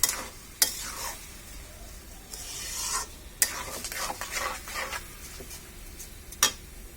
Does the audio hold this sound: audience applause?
no